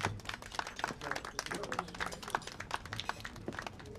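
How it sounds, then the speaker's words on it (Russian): Audience applause for a young solo singer at a festive concert: steady, dense clapping of many hands, fairly faint and even throughout. "Поддержите его аплодисментами."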